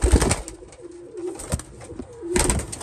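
A young racing pigeon coos in a low, steady rolling call, close and clear, with a few sharp knocks and rustles breaking in at the start and end.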